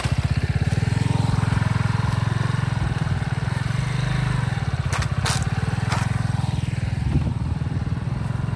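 A motorcycle engine thrums steadily up close while riding over loose, soft sand near Kovalam beach, Karainagar, Jaffna, with a few faint clatters along the way.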